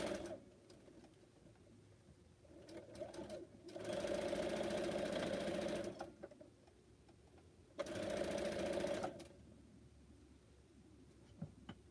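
A sewing machine stitching quilt pieces for pineapple blocks: two steady runs of fast mechanical whirring, each about two seconds, separated by quiet handling noise, close and fairly faint.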